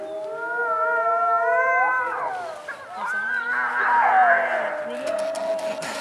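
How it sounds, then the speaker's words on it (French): Several wolves howl together in long, rising and falling overlapping tones, fairly close and loud, at the Courzieu wolf park, layered voices sliding in pitch with no talking. "les loups ne hurlent pas que les soirs de pleine lune ou quand les sorcières sortent sur leur balai"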